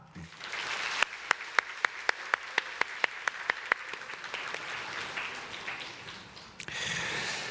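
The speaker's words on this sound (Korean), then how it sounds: "이 시간 인사할 때 격려의 박수를 해주시기 바랍니다" Congregation at a Sunday morning church service applauding in encouragement of newcomers: sharp, evenly spaced claps stand out over a steady wash of clapping, swelling briefly louder near the end.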